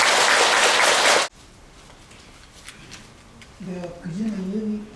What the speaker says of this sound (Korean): 모두 큰 박수로 스님을 환영해 주시기 바랍니다.